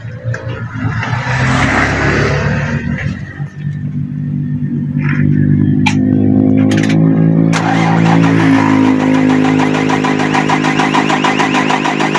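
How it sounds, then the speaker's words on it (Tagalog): A 6WG1 diesel engine in a truck tractor head cranks, then catches at about five seconds and settles into a loud, steady close-up idle with a dense rumbling drone, after earlier failed attempts caused by air in the fuel line. "Yan, motor po, umandar na."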